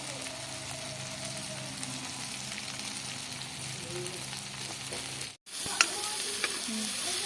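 Tomato masala with coriander and red chilli powder fries and is stirred in a pan, a soft, steady sizzle close by with occasional utensil taps and a brief gap partway through.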